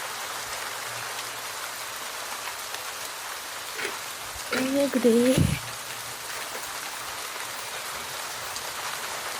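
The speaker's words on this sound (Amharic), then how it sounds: "በጣም ዝናብ ሲዘንብ ነው ያደረው።" Heavy rain pours steadily in Dubai as a continuous, close hiss, with a voice speaking briefly over it midway.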